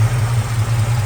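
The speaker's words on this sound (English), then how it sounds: "Pony time, 1968 Ford Mustang 302." A 1968 Ford Mustang's 302 V8 with high-rise manifold, 4-barrel carburetor and MSD ignition idles steadily, a low, even rumble heard close and alone.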